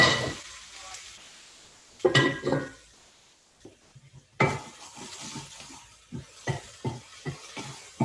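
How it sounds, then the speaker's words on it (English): Food frying in an oiled pan in a home kitchen is stirred, producing intermittent spatula scrapes and clinks over a faint sizzle, with quiet gaps between bursts and a rhythmic run of stirring strokes near the end. "And I give it another stir."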